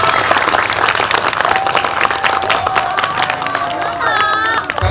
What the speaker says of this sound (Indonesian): Apresiasi dulu, tepuk tangan.